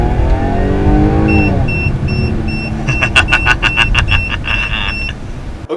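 A car engine revs loudly through an aftermarket fart can exhaust, its raspy drone climbing in pitch, then breaking into a rapid string of crackling pops before it settles, close and with no talking.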